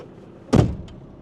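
A car door thumps shut once, a single sharp slam up close in an otherwise quiet cabin, with a faint click just after.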